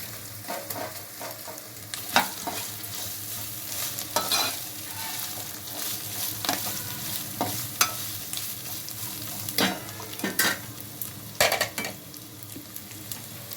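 Fried mutton pieces stirred into sizzling masala paste in a pan for a dry mutton curry, with a steady close sizzle and scraping spoon strokes against the pan at irregular intervals.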